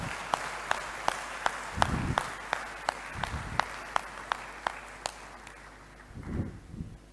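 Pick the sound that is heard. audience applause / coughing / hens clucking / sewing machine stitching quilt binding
audience applause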